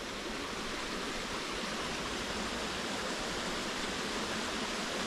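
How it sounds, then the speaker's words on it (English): Small waterfall beside a walking trail, swollen after recent rain, gives a steady, dense rush of falling water that stays constant and fairly close throughout, with no voices over it. "waterfall through there."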